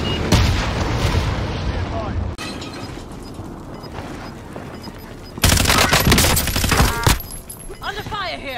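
Dense gunfire in the video game Call of Duty: Warzone, continuous loud bursts and rattling automatic fire with mechanical clatter, growing heavier partway through, with voices talking over it.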